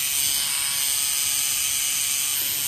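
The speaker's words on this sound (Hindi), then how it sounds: "ये जो साउंड आ रही है it means trimmer has started" A women's electric hair trimmer runs close to the microphone with a steady, high-pitched electric buzz that holds evenly for the whole moment.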